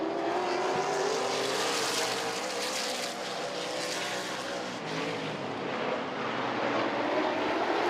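Late model race cars roar off at the start of a heat race at Midvale Speedway, a dense, loud, sustained engine drone from several cars that holds steady throughout with no talk.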